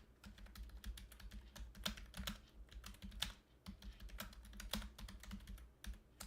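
Brisk typing on a computer keyboard, close and crisp, with rapid uneven key clicks in bursts and brief pauses, heard alone.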